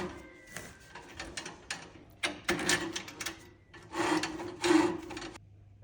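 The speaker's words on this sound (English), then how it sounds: "And then push the cable inside the cover pipe." Close rasping and scraping as a new cable is pushed into the metal cover pipe of a Boldan RotoMax or RotoMidi shaft, in irregular bursts that build louder toward the end before stopping.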